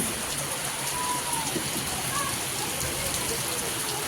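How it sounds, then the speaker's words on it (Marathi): A sudden downpour of the season's first rain in Mumbai in May, falling as a steady, dense hiss on surfaces, loud and continuous, with faint voices in the background. "बघितलं ना कसं अचानक पाऊस पडतोय"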